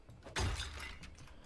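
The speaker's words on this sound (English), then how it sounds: "Can I break the glass?" Glass shatters in the Bigfoot video game, a loud sudden crash with scattering debris that trails off over about a second, with no voices.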